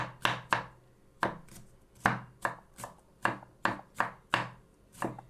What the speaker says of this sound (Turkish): Şimdi doğrayacağım tekrar bunları